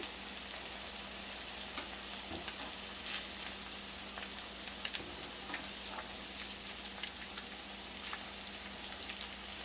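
Cauliflower 65 pieces deep frying in hot oil, a steady soft sizzle and crackle with scattered pops, fairly quiet and without talk.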